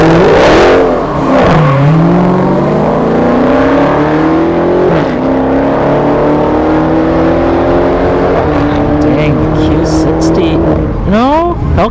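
Drag race cars, including a Hellcat, at ShowTime Dragstrip in Clearwater, Florida, roar loudly with rising engine revs and upshifts as they launch and pull away, with crowd and commentary talk underneath and another car revving near the end.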